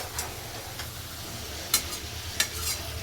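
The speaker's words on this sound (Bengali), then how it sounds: "চলো আমি কষাতে থাকি" Chicken slowly sautéed and stirred in a pan for a long cook, a soft steady sizzle with a couple of sharp spoon scrapes against the metal.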